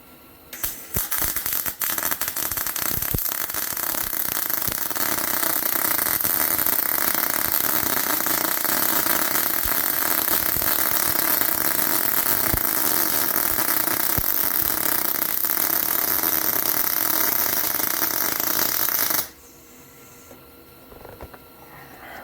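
A brand-new Harbor Freight Titanium 140 Unlimited, a cheap little welder, runs a weld pass on metal that is hard to get hot: loud, steady crackling buzz for about nineteen seconds, then it cuts off abruptly into a quiet room.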